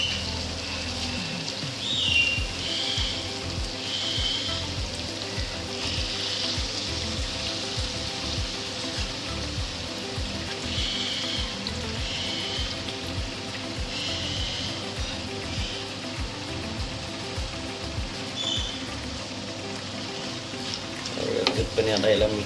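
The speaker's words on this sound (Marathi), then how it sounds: "आता याच्यामध्ये आपण गोबी ओतूया." Chopped cabbage poured into a cooked masala in a pan, sizzling and frying steadily while being stirred, a continuous crackling hiss with occasional scraping of the spoon, fairly quiet and close.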